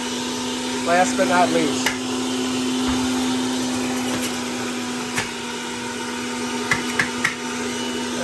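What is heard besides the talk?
Breville Juice Fountain Elite juicer running with apples and ginger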